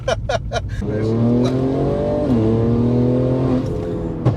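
A Mercedes-Benz C43 AMG with a 400 hp engine revs and accelerates, its note climbing through gears in rising sweeps, loud and close from inside the car, after a few short blips at the start.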